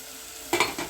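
Onions sautéing in oil in a pan give a sudden burst of sizzling and stirring scrapes after a quiet moment.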